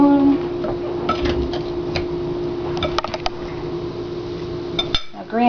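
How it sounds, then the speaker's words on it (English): A big spoon stirs a dry cornbread casserole batter of Jiffy corn muffin mix and zucchini in a bowl, giving steady scraping with scattered clinks and taps against the side, close and moderately loud, with a steady hum underneath. "Stir this together using a nice big spoon."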